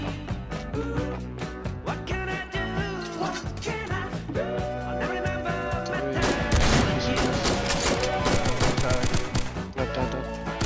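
Rapid, dense gunfire from the video game Fallen Survival, with sharp shots packed close together over a steady bed of game sound and tonal music, growing busier and louder in the second half.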